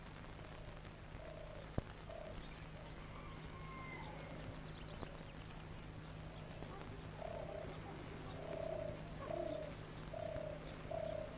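Birds in Moroccan oasis gardens of olive and date palms, with repeated soft cooing calls of pigeons or doves at moderate distance, growing more frequent toward the end over a steady low hum.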